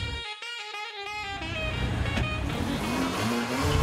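Mercedes-AMG CLA 45 engine starting with a few short clicks and chimes, then a loud revving roar that swells and stays close and full, with no voices.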